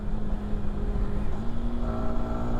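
A Yamaha R15M motorcycle drones steadily while riding, its engine pitch stepping up as gears are changed with the quickshifter, no clutch, under constant wind rush.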